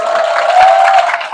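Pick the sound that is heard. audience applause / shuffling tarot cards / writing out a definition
audience applause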